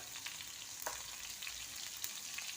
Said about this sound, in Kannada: ಆಯಿಲ್ ಒಳಗೆ ಫ್ರೈ ಆಗ್ಬೇಕು ರೀ.